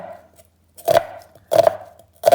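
A knife chops onions on a board in a home kitchen while making leek cannelloni, three separate bursts of clustered cuts, close and fairly loud, with near silence between them.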